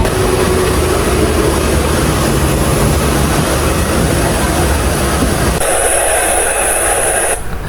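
An Airbus A330-300 on a Cathay Pacific night flight fills the cabin with a steady, loud broadband engine and air roar, constant throughout, with a high-pitched whine joining near the end.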